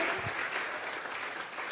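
A church congregation applauding, a dense, steady patter of many hands clapping together at moderate loudness, heard without talk over it.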